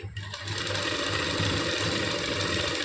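A sewing machine stitches a buttonhole, its motor whirring and needle clattering in a fast, continuous close-up run from just after the start to the end.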